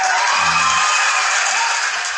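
A TikTok Live cheering sound effect plays as a steady, loud wash of crowd cheers and shouts, filling the whole stretch without a break.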